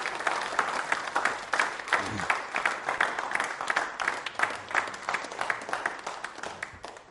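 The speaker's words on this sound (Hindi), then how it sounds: "तालियां बजाइए इस कानून और इस प्रावधान के लिए" An audience applauds during a quiz show on the Constitution of India, many hands clapping steadily at moderate volume, the rhythm thinning and becoming more scattered toward the end.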